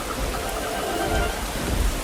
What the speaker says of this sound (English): It starts to rain, and Peppa and George watch the drops roll down the window like tiny mirrors.